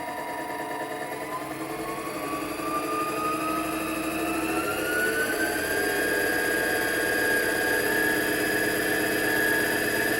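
A mini metal lathe runs steadily close by, its motor whining in a sustained drone with a tone that slowly rises as it speeds up, alongside a constant mechanical hum.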